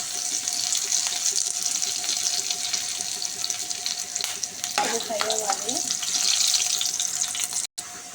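Curry leaves fry in hot oil for a biryani curry, giving a steady, close sizzle that continues throughout. A brief stir or clatter comes partway through, and a faint voice speaks under it.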